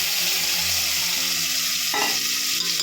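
Ground masala paste hits a hot pan of bitter gourd and chickpea pitlai, giving a steady close sizzle and frying hiss with a brief louder burst partway through, no voices.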